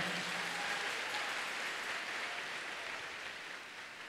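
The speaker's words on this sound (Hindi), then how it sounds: "ताली बजा के परमेश्वर को धन्यवाद करें" A church congregation at an annual gathering claps together in thanks to God, making a steady, dense wash of applause that sounds somewhat distant and fades slightly toward the end.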